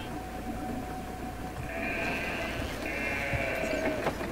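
Sheep bleating inside the video game Brothers: A Tale of Two Sons, two drawn-out wavering calls over a steady ambient bed of game music and background noise, moderately near and clear with no talk.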